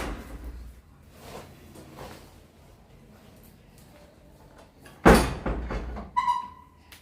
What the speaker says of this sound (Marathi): दार लावून घे